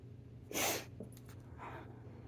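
A person with a cold sniffles with one sharp, close nasal sniff, followed about a second later by a softer, shorter sniff over a quiet background.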